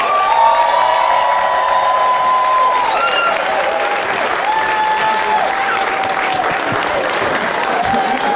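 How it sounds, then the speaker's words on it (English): Strong round of applause from a crowd at a Kevin Durant Day proclamation ceremony, sustained dense clapping with some cheers and whistles throughout, with faint voices underneath. "help me give a strong round of applause to Wanda Durant"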